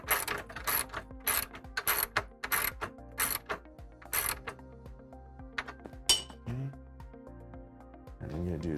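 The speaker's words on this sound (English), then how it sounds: "And now I'm just going to tighten it, but not all the way down." A ratchet tightens a nylon lock nut during installation of a rear sliding window on a Polaris RZR, producing a series of sharp clicking strokes in quick bursts, close and fairly quiet, with someone talking over parts of it.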